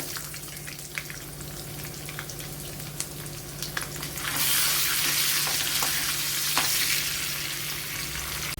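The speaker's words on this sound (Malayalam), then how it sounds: "ഇവിടെ ഇപ്പോൾ ഓയിൽ ചൂടായിട്ടുണ്ട്. അതിലേക്ക് ഇനി കൊച്ചുള്ളി ഇട്ട് കൊടുക്കാം." Small onions drop into hot oil in a pan, and a low background simmer jumps into a loud, close, continuous sizzle partway through that keeps crackling and slowly eases off.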